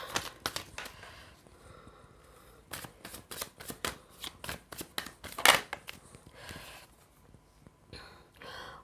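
Tarot cards being shuffled close up, with a rapid series of crisp riffling bursts and papery flutters, some louder slaps standing out, with no talking.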